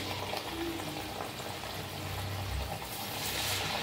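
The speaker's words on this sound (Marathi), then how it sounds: "आता आपण चकली तळून घेऊया." Rice flour chakli frying in hot oil, a steady, even bubbling sizzle that holds at low volume throughout without pauses.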